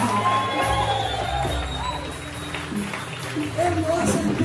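A church congregation applauds and shouts praise, with crowd cheering, whoops and scattered shouts over a loud, continuous roar, and voices rising throughout.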